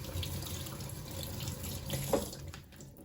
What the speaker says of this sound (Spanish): Ahora lo voy a lavar solo con agua.